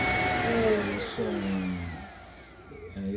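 A Shark robot vacuum cleaner runs nearby with a steady motor whine whose pitch slides and wavers, briefly dipping before rising again, alone with no voices.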